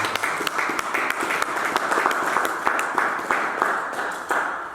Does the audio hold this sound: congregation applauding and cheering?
yes